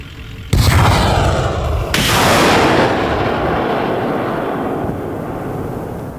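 A sudden loud blast from a Partyzan multiple rocket launcher, a small BM-21 Grad-type system, followed by a roaring rush that lingers and slowly fades.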